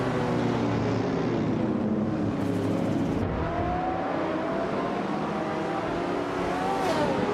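A 1969 Oldsmobile 442 engine roars continuously in a racing video game, loud and close with steady revving and gear changes, mixed with other race cars around it.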